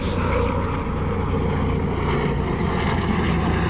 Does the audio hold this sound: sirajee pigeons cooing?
no